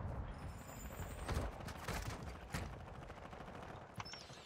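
Rapid automatic gunfire in the battle royale video game Call of Duty: Warzone, striking the player with fast rattling bursts and thuds, fairly quiet and muffled within the game mix.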